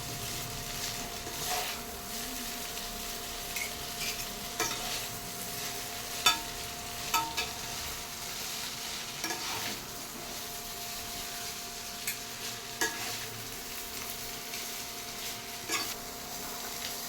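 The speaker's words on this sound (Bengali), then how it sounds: "এবার খুন্তি ও একটা চামচের সাহায্যে একটু নাড়িয়ে নেব, যাতে চাউমিনের সাথে সবজিগুলো ভালো করে মিক্স হয়ে যায়।" Vegetarian vegetable chowmein tossed in a pan with a spatula and spoon, soft frying hiss under intermittent scraping and tapping strokes, fairly quiet and without talk.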